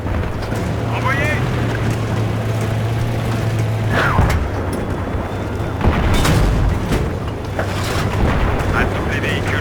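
Tank cannon fire in a Battlefield 3 armored battle breaks through a constant low engine rumble with several booming blasts, while French voices speak over the din.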